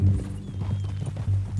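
Horse hooves clip-clopping in Red Dead Redemption 2, a steady close rhythm of hoof falls over a low rumbling background, with no talk.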